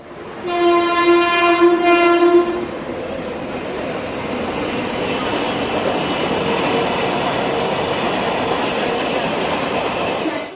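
A passenger train horn blares loudly for about two seconds at Rajapur station, then a steady rumble of rail cars rolling past fills the rest, close and continuous.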